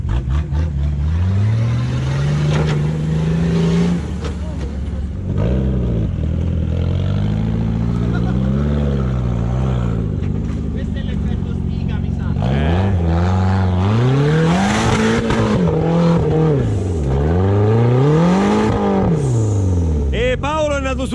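A 4x4 off-road car's engine revs hard at full throttle in second gear during an off-road outing, its pitch climbing and falling in sweeping surges, close and loud, with voices talking over it.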